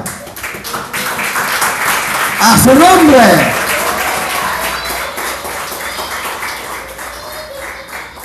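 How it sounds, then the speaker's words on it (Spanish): A church congregation breaks into sustained applause and clapping at a Spanish-language service while a preacher's amplified voice calls out over it. "Vamos a darle un aplauso al Señor."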